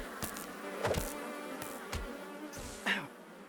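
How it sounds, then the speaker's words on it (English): Bees buzzing in the Minecraft video game, with a steady insect drone broken by several short, louder buzzes that come and go close by, with no talk. "I was busy being stung by bees."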